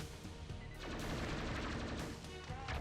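Dense bursts of rapid automatic gunfire in the video game Neon Chrome, continuous crackling volleys with scattered impacts at a fairly steady loudness and no talk over them.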